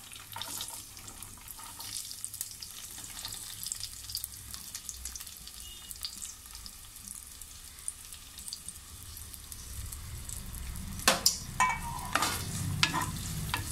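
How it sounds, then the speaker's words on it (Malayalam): Chopped onion, ginger, garlic and green chili frying in hot coconut oil for a raw plantain curry, a low steady sizzle that grows busier toward the end with a few sharp clinks of a utensil. "വെളിച്ചെണ്ണ നന്നായിട്ട് ചൂടായി വരുമ്പോൾ നമുക്ക് അരിഞ്ഞു വെച്ചിട്ടുള്ള സവാള, ഇഞ്ചി, വെളുത്തുള്ളി, പച്ചമുളക് ഇതെല്ലാം ഒരുമിച്ച് തന്നെ അങ്ങോട്ട് ഇട്ട് കൊടുത്തേക്കാം."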